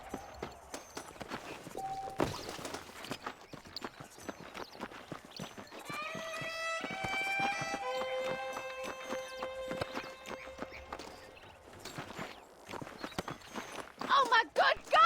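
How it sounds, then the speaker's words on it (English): Saddled horses in the Red Dead Redemption video game clip-clop in a quick, steady rhythm of hoofbeats, with a brief whinny and sustained tonal game music in the middle, and a voice speaking at times. "The horses are saddled up over here."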